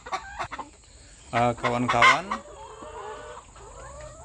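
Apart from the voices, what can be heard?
laying hens on an integrated farm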